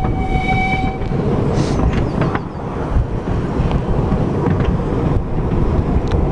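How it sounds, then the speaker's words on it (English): A Thomas the Tank Engine ride train rolls through a park with a loud rumble and rattle of cars, a short horn toot near the start and wind buffeting the microphone. "we're on a train. I think it's Thomas the Tank Engine."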